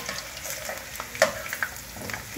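Potatoes frying in oil for a khatta-tikha cauliflower dish, a steady close sizzle with stirring scrapes and a few sharper clinks throughout.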